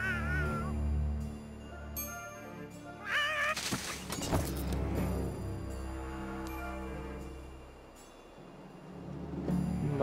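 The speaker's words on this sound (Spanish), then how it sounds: "Espérate que ahí está el gatito." A cat meows in South Park: The Fractured but Whole, several rising meows and a longer wailing caterwaul near the start, loud and close over a steady game music bed, with a crash-like burst partway through.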